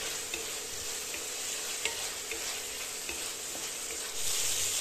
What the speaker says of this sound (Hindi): दो कटे टमाटर अब हम इसे दो मिनट तक भून लेते हैं